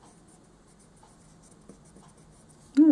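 A canary yellow colored pencil laying down base color on paper while tiny mushrooms are colored, making soft, steady scratchy strokes up close before a sudden louder sound cuts in at the very end.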